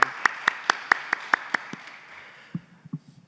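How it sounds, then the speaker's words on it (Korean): A church congregation claps in encouragement for an evangelist, about nine sharp, evenly spaced claps in a quick steady rhythm that then fade out into a few soft, scattered knocks. "우리 전도사님께 격려의 박수 올려드리겠습니다."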